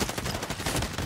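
Rapid gunfire in the Warzone battle royale shooter, dense overlapping bursts with a machine-gun rattle crackling continuously through a short, busy stretch of combat.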